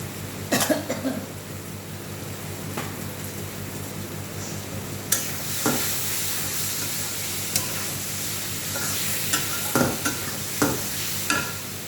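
Egg curry masala with a splash of milk is sautéed in a pan with a continuous soft sizzle and occasional stirring scrapes, broken by a few coughs nearby.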